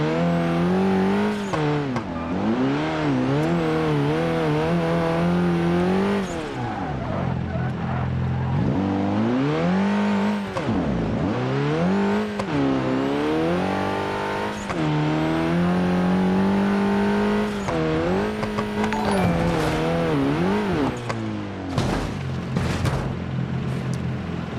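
A video game car engine revs and shifts continuously for over twenty seconds, pitch climbing and dropping through gear changes with brief squeals, loud and close throughout.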